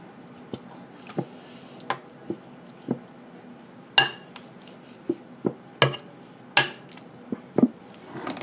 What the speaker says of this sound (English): Can you stir that up real good?